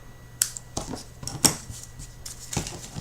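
Scissors trimming the small paper tails off a glued element on a gingham garden card, several crisp close snips spaced irregularly with quiet pauses between.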